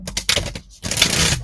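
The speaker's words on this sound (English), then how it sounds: "let's shuffle these up and see what we get." A deck of oracle cards being shuffled up close, a loud crisp riffling flutter in two quick bursts separated by a brief pause.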